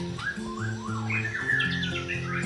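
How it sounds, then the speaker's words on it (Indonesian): A white-rumped shama (murai batu), a songbird, sings a quick run of clear whistled phrases and rising and falling notes, moderately close, over a steady low background hum. "salah satu burung yang pintar membawakan lagu, istilahnya dalam bahasa perburungan yaitu murai batu konslet"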